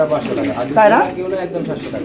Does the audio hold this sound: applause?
no